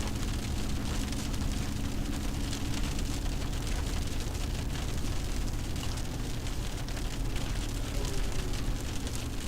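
Steady rain pours down in a dense, unbroken hiss that stays loud and even throughout, with no talk over it.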